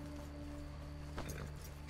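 A horse in the video game Red Dead Redemption 2 gives a short snort or whinny amid low in-game ambience, with a faint voice briefly present.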